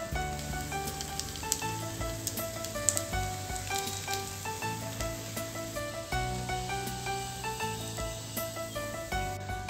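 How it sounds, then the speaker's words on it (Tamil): Potato rava fingers (sooji aloo fingers) frying in hot oil, a steady crackling sizzle that runs throughout at moderate level, with faint clinks from utensils. "இதே மாதிரியே மிச்சம் இருக்கிற ஃபிங்கர்ஸையும் நம்ம பொரிச்செடுத்துடலாம்."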